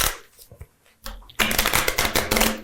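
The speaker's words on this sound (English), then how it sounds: "Shuffle the cards for me." A deck of playing cards is shuffled during a magic trick, with a few soft handling taps followed by a brisk, crackling riffle of cards flicking quickly together, close by.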